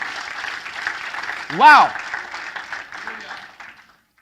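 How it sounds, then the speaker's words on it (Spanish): A church congregation applauds in a steady, fairly loud wash that fades out near the end, while a voice exclaims briefly partway through. "Dale ese aplauso fuerte a Jesús"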